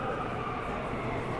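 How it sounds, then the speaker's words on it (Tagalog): A Riyadh Metro train pulls into a station, giving a steady, loud rail rumble that fills the whole short stretch without a break. "nandyan na yata yung tren"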